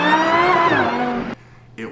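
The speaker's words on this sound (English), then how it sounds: "It whines like that thanks to the VF Engineering Supercharger." A Lamborghini fitted with a VF Engineering supercharger gives a loud, high harmonic whine that slides downward in pitch over about a second, then cuts off abruptly, leaving quieter low rumble before a brief rise.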